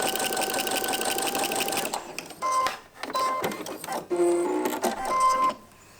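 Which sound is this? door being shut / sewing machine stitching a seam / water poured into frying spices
sewing machine stitching a seam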